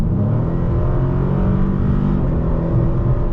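A 2020 Dodge Challenger Scat Pack automatic pulls hard with a loud, close, deep engine drone that stays continuous and strong throughout. Subtle pitch shifts come through as the transmission selects gears on its own.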